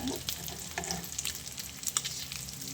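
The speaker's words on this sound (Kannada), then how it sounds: "ಸ್ವಲ್ಪ ಇಷ್ಟು ಸುಮ್ಮನೆ ಹಿಂಗೆ ಫ್ರೈ ಮಾಡ್ಕೊಳ್ಳಿ" Sliced boiled egg pieces frying in a pan for egg pepper roast, a steady close sizzle with a few soft stirring scrapes throughout and no one speaking.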